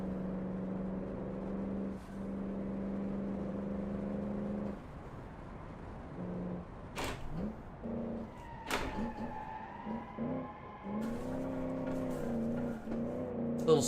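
A turbocharged, supercharged hybrid four-cylinder car engine in the racing game BeamNG drones steadily, then dips, revs up and down in short bursts, and climbs again into a strained, whirring pull.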